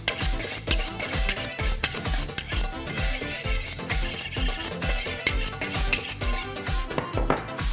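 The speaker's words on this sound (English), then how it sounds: "So now what we will do, we will sharpen the knife." A kitchen knife honed with quick, rhythmic metallic scraping strokes, close and fairly loud, repeating steadily with no talk.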